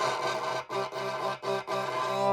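Violin-type bow pressed too hard across two strings, producing a harsh, scratchy, grinding tone in four strained strokes separated by short breaks.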